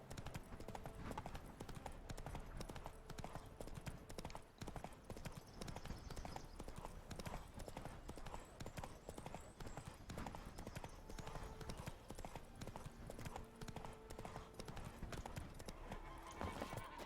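Horse hooves clip-clop in a steady, continuous rhythm throughout The Witcher 3, with the game's ambient music and effects running underneath.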